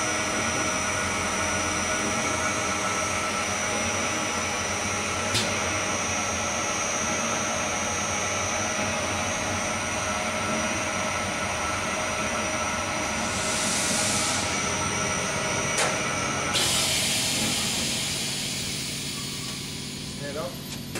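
A Spitfire SP-888-38PDW 38-inch double-sided wheel polishing machine running with a steady, loud mechanical whir and hum, a few sharp clicks and a burst of hiss near the end, with talking over it.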